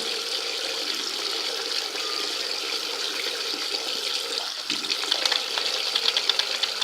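Blood is scrubbed out of cloth with soap and water, a steady close hiss of running water with rougher rubbing strokes growing more distinct toward the end.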